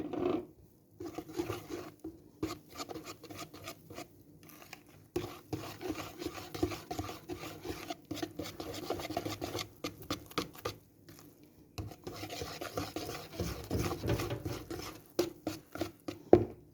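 Pancake batter with flour whisked by hand in a bowl, a steady scraping patter of the whisk with short pauses, close and moderately loud, no talking.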